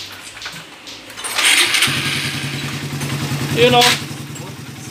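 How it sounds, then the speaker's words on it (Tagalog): A Raider 150 motorcycle engine cranks and catches, then settles into a steady, close idle with a brief rev, while someone speaks briefly over it. "So, try na nating pandarin mga kabro tong motor niya."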